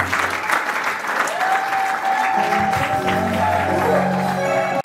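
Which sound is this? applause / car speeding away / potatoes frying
applause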